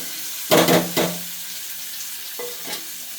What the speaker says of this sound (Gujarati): રાઈ નાખી દઈશું, જીરું નાખી દઈશું, હળદર નાખી દઈશું અને આપણી આ ડુંગળી નાખી દઈશું.